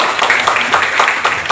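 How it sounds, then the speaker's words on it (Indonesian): An audience claps at the opening of a school teachers' in-house training event, a short, loud burst of dense, uneven applause. "Jadi tepuk tangan dulu kita untuk"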